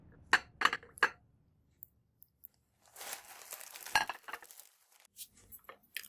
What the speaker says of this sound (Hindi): और इसको अब अच्छे तरीके से ब्लेंड करूंगी ताकि हर चीज़ जो है इसके बीच में मिक्स हो जाए